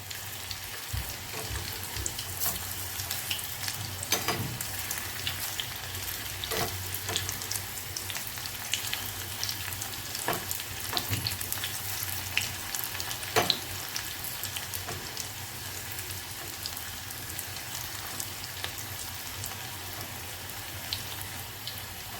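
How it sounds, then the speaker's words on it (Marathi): Soya chunk pakoras fry in oil with a steady, close bubbling sizzle that continues throughout, broken by occasional sharp clicks and scrapes from turning them. "एका साईडने थोडेसे फ्राय व्हायला द्यायचे, नंतर मग पलटी करायची आहे."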